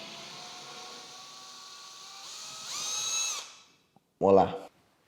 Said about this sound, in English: take your drill bit, tighten it down very tight, just over the top of the screw